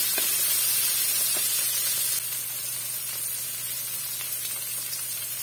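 Cooking oil sizzles in a hot pan while pinakbet with shrimp is being made, a steady close hiss with faint crackles that eases slightly partway through. No one speaks.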